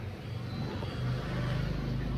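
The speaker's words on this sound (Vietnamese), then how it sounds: "Đó, anh em nghe tiếng bơm rồi." Electric water pump running dry with no water, a steady low droning hum with a faint whine above it, close and continuous throughout.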